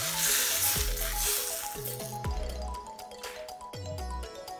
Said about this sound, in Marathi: तेल आता गरम झालंय, ते मी आता त्या सारणावर ओतणार आहे